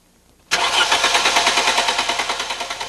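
A car engine with Bosch KE-Jetronic injection cranks cold with the fuel pump fuse pulled and the temperature sensor disconnected, so it does not start. The starter churns loudly and steadily with a rhythmic pulsing beat for over two seconds.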